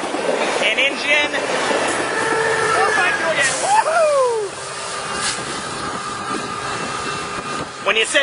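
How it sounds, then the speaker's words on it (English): Amtrak Surfliner train passing northbound through Del Mar toward Oceanside, a steady loud rumble with brief wheel squeals, while people cheer and talk nearby. "There goes that train north to Oceanside."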